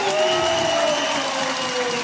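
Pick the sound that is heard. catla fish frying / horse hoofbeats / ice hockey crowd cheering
ice hockey crowd cheering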